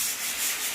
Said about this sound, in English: sanding how you would normally sand an angle with a traditional sanding pole